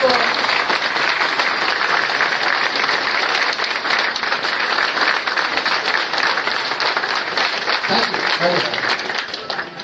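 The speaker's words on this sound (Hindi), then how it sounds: "उनके लिए खड़े होकर ताली बजा सकते हैं" A standing audience at a community society function in Ahmedabad gives the organizers sustained, dense applause, loud and continuous, tapering slightly at the end with a few voices faintly mixed in.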